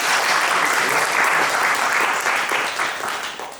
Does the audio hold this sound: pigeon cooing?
no